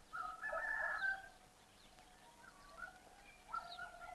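Chickens cluck and a rooster crows in short, faint bursts, quiet farmyard calls separated by pauses.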